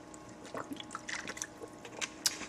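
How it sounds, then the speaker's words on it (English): A person takes a small sip of water, soft wet slurps and faint liquid clicks coming close and quiet in a short scattered burst. "I'm going to take a little sip of water here"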